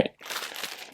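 A gallon Ziploc plastic bag crinkles for under a second while being placed over a GY6 scooter engine's stator during motor prep, a brief close rustle ending in a sharper crunch.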